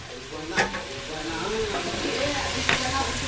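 Onions frying and being stirred in a pan for a chicken tempering, a steady close sizzle broken by a few scraping stirs, with no talk over it.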